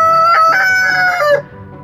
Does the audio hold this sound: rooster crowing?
yes